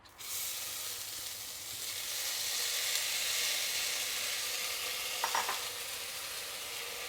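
Toor dal and moong lentils dry-roasting in a pan for methi dal give a steady, close sizzling hiss with scraping stirs, a brief stirring clatter standing out near the end.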